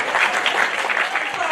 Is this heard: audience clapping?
yes